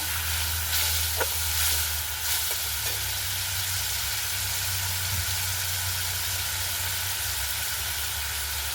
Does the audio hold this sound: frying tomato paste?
yes